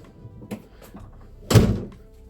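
A Ford Transit Connect van's single heavy rear door thunks shut after a couple of light taps, a solid close, nearby and alone.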